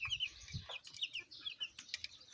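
Chicks peeping in a brooder, a continuous stream of high, rapid chirps from many birds close by, fairly soft, with no talk.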